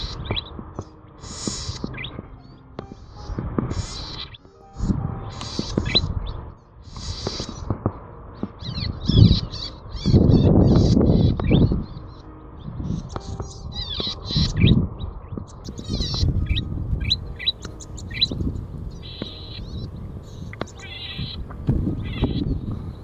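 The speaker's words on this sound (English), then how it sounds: "Listen for the whereabouts call, the buzz, cheep, as this bird preens and watches insects flying about." A Golden-headed Cisticola in Australia gives repeated short buzzes and cheeps, some buzzes without a following cheep, over steady wind noise at moderate distance.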